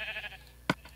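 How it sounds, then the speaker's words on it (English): A sheep in the Minecraft video game lets out one short, clear bleat, briefly following fainter game sounds. "Wait a minute, there's a sheep out of the pen."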